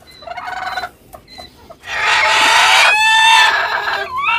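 Native-breed chickens on an integrated farm cluck in short bursts, then a rooster crows loudly and close by in a long strained call, followed by more clucking.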